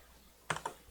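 A few quick computer keyboard key presses, an Alt+A shortcut typed while working in After Effects, land as two or three close, crisp clicks in an otherwise quiet room.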